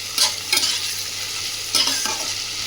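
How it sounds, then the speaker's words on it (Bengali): Garlic frying in oil hisses steadily while a utensil scrapes and stirs the pan in a few short strokes, close by with no talking. "ভালো করে রসুনটা আগে ভেজে নেব।"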